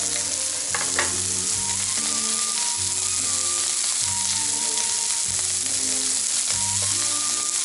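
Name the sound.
lamb chop sizzling as it sears in a pan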